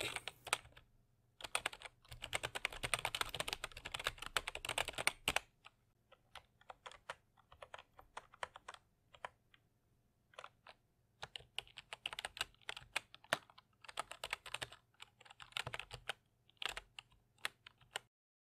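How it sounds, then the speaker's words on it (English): Someone types on a computer keyboard, close up, with dense rapid clacking bursts separated by short pauses and a steadier run of keystrokes at the start. "It's just me typing on a keyboard."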